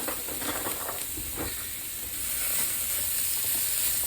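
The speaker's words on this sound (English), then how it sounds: "We just want to sear these a little bit. I used a little bit of vegetable oil." Chicken pieces searing in a little hot vegetable oil in a pan for a homemade casserole, giving a steady close sizzle and crackle that swells slightly louder partway through, with no talking.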